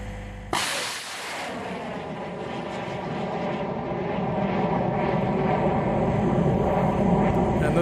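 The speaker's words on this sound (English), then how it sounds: "This is the record-setting altitude flight of Phoenix 1B Mark II-R." Phoenix 1B Mark II-R rocket on its record-setting altitude flight: a sudden loud ignition roar about half a second in, settling into a sustained, steady rumbling roar that slowly grows louder.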